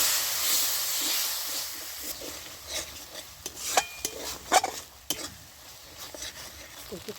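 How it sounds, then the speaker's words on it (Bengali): A little water poured into a hot pan of tomato for a jackfruit and egg curry bursts into a loud hiss that fades, followed by stirring scrapes and light clatter close by. "একটু অল্প করে জল দিয়ে দিচ্ছি"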